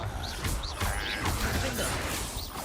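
Incendio fire spell cast in Hogwarts Legacy combat: a dense, continuous rush of crackling, whooshing bursts with sharp impact-like hits, loud and close throughout.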